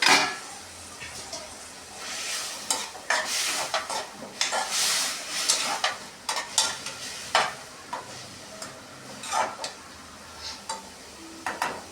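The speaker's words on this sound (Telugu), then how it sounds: "తోటకూర అయితే ఇంకా అలా ఫ్రై అయిందండి" Amaranth leaves fry in a pan, with a soft sizzle under repeated scraping and stirring strokes from a spatula, irregular and close.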